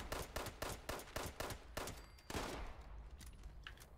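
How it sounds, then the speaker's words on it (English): Automatic gunfire in the Fallout 76 video game, a rapid rhythmic burst of about a dozen loud, even shots. It stops abruptly and gives way to a fading, quieter tail with a few faint scattered sounds. "Maybe somebody else is shooting."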